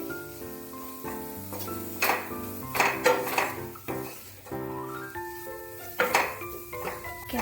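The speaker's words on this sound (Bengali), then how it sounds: "ক্যাপসিকামটা দিয়েও বেশ কিছুক্ষণ মশলার সাথে নেড়ে চেড়ে নেব।" Capsicum stirred with spice masala in a pan for chili chicken, with intermittent scraping and clinks of a spoon against the pan and a faint sizzle, over quiet background music.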